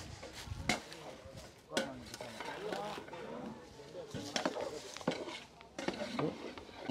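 Potato curry being stirred in a pan for a Nellai-style wedding meal, with continuous close scraping and clinking of a spoon against metal and a faint sizzle, while people talk over it.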